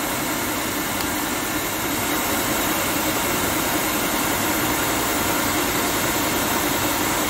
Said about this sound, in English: This is a high speed induction motor, 3-phase.